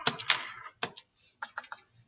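Calculator buttons are pressed one after another as a number is keyed in, making soft, close plastic clicks in short, uneven bursts separated by brief pauses.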